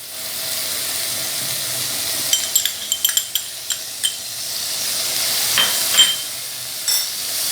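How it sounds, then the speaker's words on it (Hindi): Ginger garlic paste sizzles in two to three tablespoons of hot oil with a constant frying hiss, while a spoon clicks and scrapes against the pan in a quick cluster of strokes. "इसको हमने थोड़ा सा ऑयल में भूनना है।"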